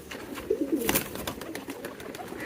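Young pigeons, newly let out for the first time, give a few soft, low coos early on over a quiet room background, then fall silent.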